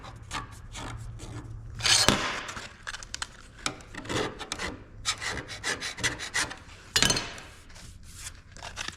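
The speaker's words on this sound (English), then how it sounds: "Seems to be sanding all right." Cured epoxy being sanded by hand with a worn piece of 400-grit sandpaper: close, quiet rasping strokes in an irregular rhythm, with a couple of louder scrubbing passes, no talk.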